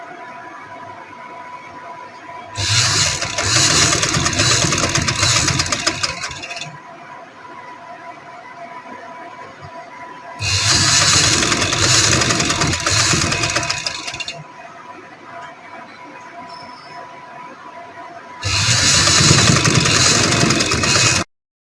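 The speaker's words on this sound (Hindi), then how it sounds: "सिलाई लगाएंगे ताकि ये लेस बैठ जाए।" A sewing machine stitches lace onto a panel kurti in three loud, steady runs of about four seconds each, with quieter pauses between them.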